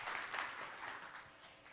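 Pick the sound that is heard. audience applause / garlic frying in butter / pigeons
audience applause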